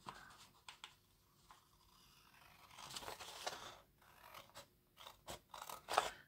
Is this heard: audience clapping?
no